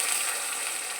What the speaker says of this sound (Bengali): এবার আমি শুকনো লঙ্কা জিরে ফোড়ন দিয়ে দেবো